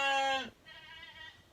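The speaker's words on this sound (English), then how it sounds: "over here, you guys can see these are our sheep" A sheep on a farm gives one loud, close bleat lasting about half a second, followed by a quieter, wavering second bleat.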